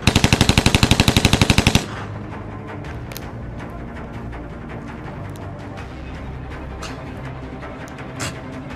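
Rapid machine-gun fire from a game rattles loudly in a tight burst for about two seconds, then cuts off into a low ambient background with a few faint clicks.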